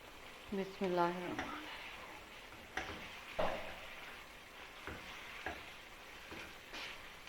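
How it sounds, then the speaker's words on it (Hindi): Chicken with Kashmiri red chili, black pepper, turmeric, coriander, salt, garam masala and softened tomatoes being fried in a karahi, a steady hiss under a spoon's intermittent scrapes and clatters, with a voice speaking over it near the start. "अभी हम इसकी भुनाई कर रहे हैं"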